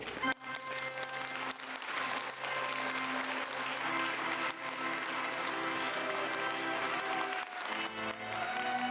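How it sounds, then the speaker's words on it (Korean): Wedding guests on their feet applauding as the bride and groom march down the aisle, a steady crowd ovation with cheering and music tones underneath throughout. "기립박수를 받을 수 있도록 이렇게 진행을 했습니다"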